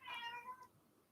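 A pet cat gives a single short, clear meow, fairly close and alone, fading into quiet room tone.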